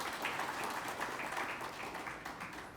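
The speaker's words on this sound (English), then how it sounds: "Let's have a round of applause to all our supporters and sponsors." Audience at an industries and SME summit in Taloja applauds supporters and sponsors, a steady wash of many hands clapping at moderate volume throughout the short stretch with no talk.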